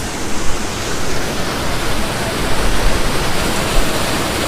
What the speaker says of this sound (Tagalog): So, ito yung pinaka-falls